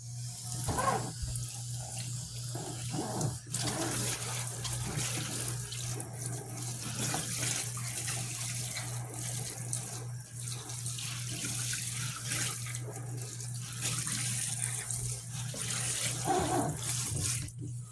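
Water pours steadily from a tap into a drainage sink while potted tomato plants are soaked, a continuous close splashing and rushing flow with a low hum underneath.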